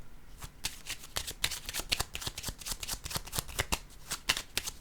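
Playing cards being shuffled and drawn for a card reading, a fast run of crisp riffling snaps and slaps at close range with no talk.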